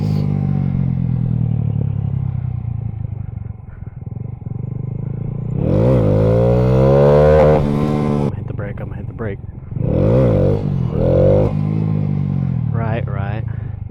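A motorcycle idles and then revs hard in two rising bursts while its rider practices wheelies, working the clutch and tapping the rear brake; there is mechanical clatter, and the engine is close and loud.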